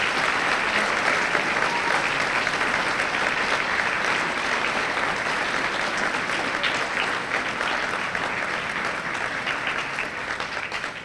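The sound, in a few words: audience applause for teacher award recipients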